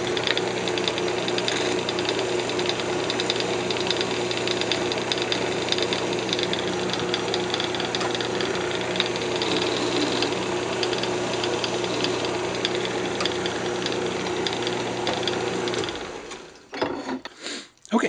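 A woodturning lathe spins while a small turned wooden flower is sanded by hand, giving a steady, dense mechanical whir with faint rasping that runs continuously and then winds down and stops near the end.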